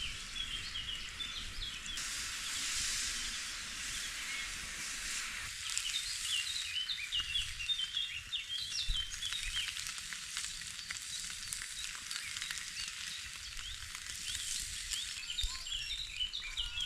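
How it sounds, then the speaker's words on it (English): Bacon fries in a pan at a solo hammock campsite, a steady crackling sizzle throughout with faint birdsong in the background. "the good thing about cooking bacon before you cook the eggs is that it leaves a lot of oil on the pan"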